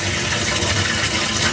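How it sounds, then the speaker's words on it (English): Water poured into the bilge of a Nautica wide-body 13.5 boat during a repower, a loud, continuous gushing rush that fills the short moment close up without a break and without talk. "we're throwing a little bit of water in here now"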